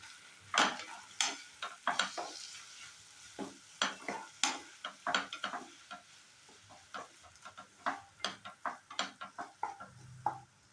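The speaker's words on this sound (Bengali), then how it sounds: "পেঁয়াজ বাটা দেওয়ার পর আবার কিছুক্ষণ কষিয়ে নিতে হবে" Onion paste sautéed in a pan for a tangra fish curry: a spoon scrapes and stirs in repeated sharp strokes over a faint sizzle, close and fairly quiet, without talk.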